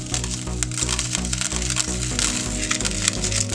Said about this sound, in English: We're gonna remove this part and remove most of the seeds.